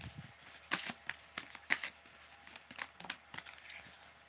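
Tarot cards shuffled by hand, a rapid series of soft riffles and crisp paper slaps, close and quiet, irregular in rhythm.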